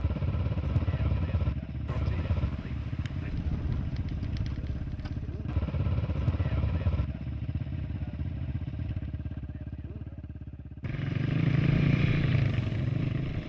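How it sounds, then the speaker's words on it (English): Motorbikes herding Merino sheep on a large outback Queensland sheep station, their engines droning steadily and rising and falling as they pass, with clattering and rattling mixed in. "To save on time and staff, gathering the sheep and herding is often done on motorbikes."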